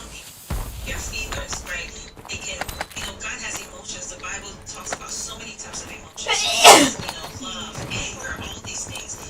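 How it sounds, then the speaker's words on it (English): A sneeze bursts out near the middle, short and sharp, rising above a live-stream background of ongoing talk and game sounds. "I think that was a sneeze."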